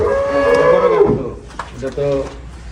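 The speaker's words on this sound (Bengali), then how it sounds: "অনেক বড় গাভী রাজ্জাক ভাই" A large dairy cow moos in two long, loud, close calls, the first rising and falling over about a second and a half, the second shorter, with farm background behind.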